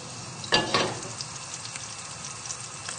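Butter melts and sizzles in a swirled pan: a soft continuous fry hiss with two louder bursts of sizzle near the start, then a gentle crackle throughout, no voices.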